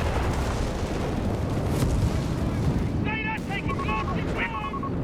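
Dense, continuous rumbling explosions and booms from artillery strikes in the wartime strategy game Company of Heroes 3, with electronic beeping tones over the barrage near the end.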